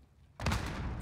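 A fuel explosion in the 2019 Call of Duty: Modern Warfare campaign erupts after a quiet stretch, a sudden loud, deep blast that rumbles on with a broad roar to the end.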